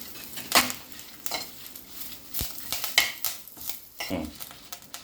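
Garlic cloves, dried red chillies and curry leaves fry in hot oil with a soft sizzle, punctuated by irregular clinks and scrapes of a metal spoon stirring in the pan, close by.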